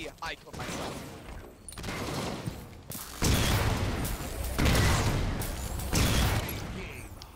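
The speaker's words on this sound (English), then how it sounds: "There's so many shots coming at me!" Gunfire in a custom free-for-all shooter video game, with dense bursts of shots and booming impacts layered together, loud and close, arriving in repeated waves under a player's excited talk.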